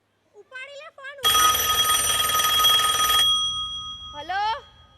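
A telephone rings loudly for about two seconds in a school annual-function comedy skit, a steady electronic ring between short bursts of a voice before and after.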